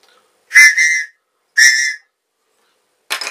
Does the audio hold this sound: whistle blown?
yes